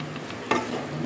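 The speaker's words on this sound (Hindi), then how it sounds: "मसाला डाल के फ्राई कर रही हूँ।" Mutton fries in masala with green chilli in a pan, a steady close sizzle with a brief stirring scrape midway and no voices.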